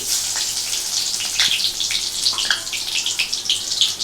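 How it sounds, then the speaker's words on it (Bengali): Cumin seeds sizzle in hot oil in a kadai, giving a steady, close hiss with soft crackles and spits throughout, and no talking. "আমি কড়ার মধ্যে তেল রয়েছে, এ দিয়ে দিলাম আমি জিরে ফোড়ন।"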